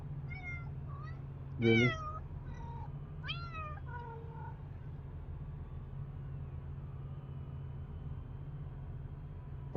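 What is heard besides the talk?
cat meowing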